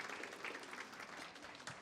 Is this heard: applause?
yes